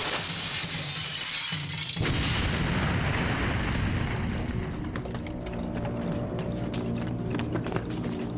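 Glass shatters with a loud crash in a tense building scene, followed by a long spill of tinkling shards and scattered debris under a steady roar.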